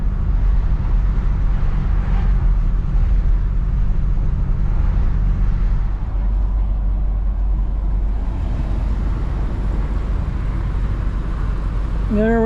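Two 1959 Chevrolet Bel Air four-door sedans with two-speed Powerglide automatics cruise Woodward amid steady road traffic, giving a continuous low engine and tire rumble with faint voices under it.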